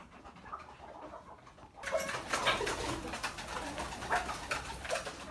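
Several pigeons coo softly nearby while eating grain, their low murmuring calls repeating over a quiet background with faint rustling.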